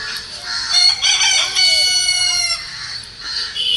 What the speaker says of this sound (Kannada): ಕೋಳಿಗಳೆಲ್ಲ ಕೂಗ್ತಾ ಇದೆ